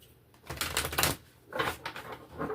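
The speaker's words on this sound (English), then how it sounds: "we'll shuffle for jumpers" Tarot cards are shuffled in a few quick, crisp riffling bursts, close by and moderately quiet, with no talking.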